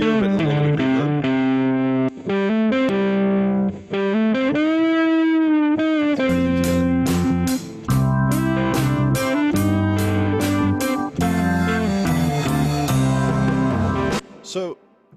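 An effected electric guitar track with light compression and reverb plays a melodic line of chords and single notes, distorted and chorus-tinged, loud and upfront with brief pauses between phrases.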